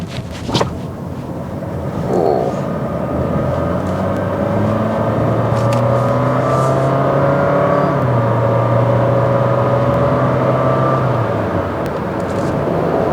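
A 2021 Honda City RS e:HEV hybrid pulls hard on a test drive, a loud, steady interior drone of engine and road noise that rises in pitch as it gains speed, with no talk.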